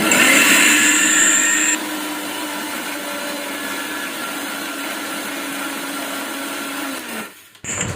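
An electric grinder blends a spice paste of onion, garlic, chili, turmeric and coriander with a loud, high whirring that drops to a steadier hum, runs for several seconds, then cuts off.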